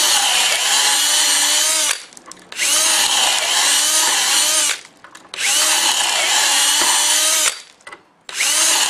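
A power drill bores dowel holes into thick wooden boards in three long loud runs, each ending with a short pause before the next, close and harsh.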